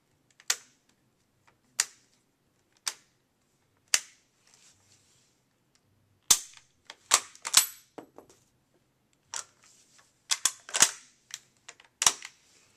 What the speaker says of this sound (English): load the Kar 98K with a spent shell